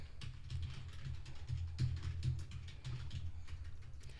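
Soft, quick keystrokes on a computer keyboard, with irregular clusters of clicks and a few sharper taps, faint and close, with no talking.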